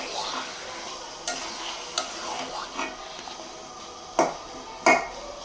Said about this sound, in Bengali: আস্ত 5 ফোড়ন একটা বাগারে দিছি অল্প করে